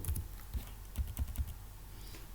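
Computer keyboard typed on while writing C code, a quiet run of close, irregular key clicks in short bursts with brief pauses, no speech.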